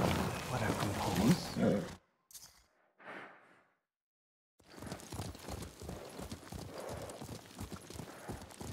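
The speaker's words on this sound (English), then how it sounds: "What a good horse." A horse's hooves clip-clopping in the Ghost of Tsushima video game, a steady rhythmic trot of close, distinct hoofbeats after a near-silent pause, with a voice talking briefly before it.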